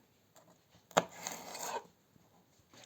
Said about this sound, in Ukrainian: Нарізаємо довгенькими тоненькими полосочками.